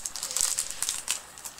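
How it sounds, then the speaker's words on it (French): Adhesive tape being handled while a doll is unboxed: close, faint crinkling and crackling with a few sharp ticks over a second and a half. "est-ce que je pourrais réussir à choper le scotch?"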